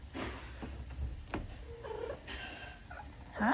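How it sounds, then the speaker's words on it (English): A cat purrs in a close, low rumble with a few brief vocal bursts rising over it, including a short meow-like cry near the end. "Of course, Gimli has zero issues meeting a new cat"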